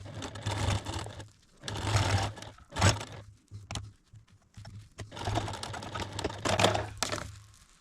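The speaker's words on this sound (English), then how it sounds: "I'm going to take it to the machine, and I'm going to stitch right down here" A sewing machine stitches a potholder in short bursts of fast, even whirring, pausing briefly between runs, close and fairly quiet with no talk.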